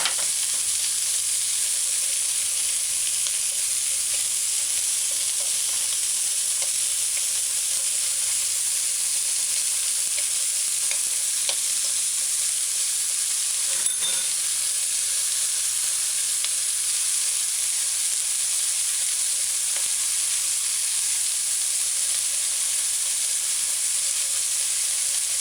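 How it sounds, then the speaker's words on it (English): Onions sauteing in a pan on a stovetop, cooking alongside a burger, give a steady, even sizzle of frying with a few faint clicks and stirs, continuous and fairly quiet throughout. "So just put your onions in and saute it"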